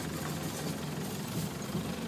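Engine of a Land Rover Defender driven by a child, a steady mid-pitched drone holding close and even throughout without a clear rise in revs.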